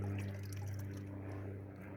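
Water poured over a divided Desert King fig plant in a pot of peat moss, a faint soft trickle and splash under a low steady hum.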